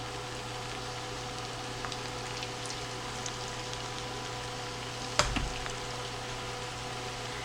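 Philly cheesesteak egg rolls frying in oil in a pan, a steady, faint broadband crackle and sizzle throughout with a sharp clack near the end, likely tongs or the pan, and no talking.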